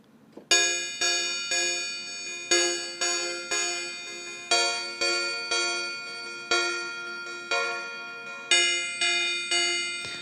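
SugarBytes Obscurium software synthesizer running a repeating step pattern at eighth-note clock, with bell-like tonal hits that strike sharply and ring out in a steady rhythm, loud and alone with no talking.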